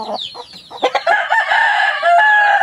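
A 10-month-old gamecock rooster crows loud and close, one full drawn-out crow after a few short clucks, with no other sound around it.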